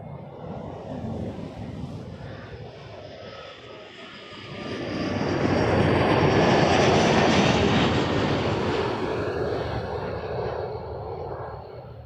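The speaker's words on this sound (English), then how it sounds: "Embraer 175 coming in next from Newark, Jazz 877" A Jazz Embraer 175 jet from Newark comes in to land at Toronto Pearson, its engine roar swelling from a moderate rumble to a loud, broad rush at its peak, then easing slightly, with no talk.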